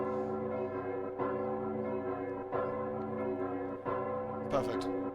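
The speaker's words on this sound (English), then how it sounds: "The bells. The bells." Church bells tolling in the video game Nier Automata, a few heavy strokes roughly every one to two seconds with long ringing decay, with a soft musical score sustained underneath and a brighter chime near the end.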